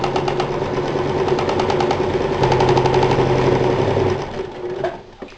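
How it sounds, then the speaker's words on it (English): A sewing machine stitching three sides of a fabric envelope closed for a holiday apron project, running in a fast, steady rattling burst close up, with the pitch shifting partway through before slowing and stopping near the end. "We're just going to make an envelope by sewing 3 sides closed."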